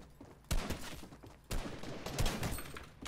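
Bursts of gunfire in the Fortnite video game, two sharp volleys of rapid shots opening at regular intervals and rattling on, loud and close, with no talking.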